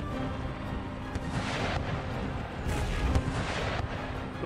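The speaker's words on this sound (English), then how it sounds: "We might actually keep engaging them with our foot artillery." Continuous rumbling barrage of foot artillery howitzers firing in Empire Total War, dense overlapping booms forming a steady roar with no pauses, loud and alone without speech.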